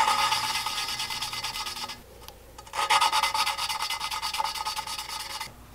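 An engine valve is lapped by hand against its seat using coarse grinding compound. A close, gritty scraping rubs back and forth in a quick rhythm, pauses briefly, then resumes at the same pace.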